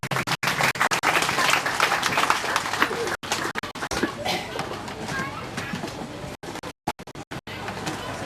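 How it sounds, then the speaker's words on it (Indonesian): Audience applause fills a school ceremony at SMA Negeri Harekakae marking the inauguration of Sanggar Manukakae: dense, steady clapping close by with a few brief breaks, and voices mixed in throughout. "Kita berikan tepuk tangan yang meriah."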